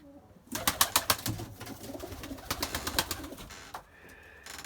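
A pet pigeon in flight near its coop, with bursts of wing flapping and short coos, fairly close, ending in a quieter stretch with a steady tone.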